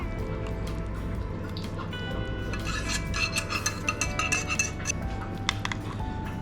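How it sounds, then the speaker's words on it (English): Sauce poured over ground beef already in a baking tray, a wet pouring with clinks of a utensil or dish against the tray and some small drips, fairly close and with no talking. "I've already put my beef in a baking tray, so we're just going to pour this over the top."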